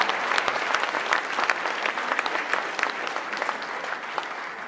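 Audience applause at a talk, dense steady clapping from a crowd filling the room, fairly close and continuous throughout.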